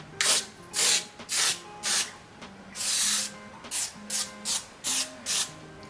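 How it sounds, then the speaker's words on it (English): Brush strokes blending Bali Body instant tan spray on an arm: about ten short, soft swishing rubs in a steady rhythm, close and fairly quiet, with no talking. "and we will blend it out with the brush."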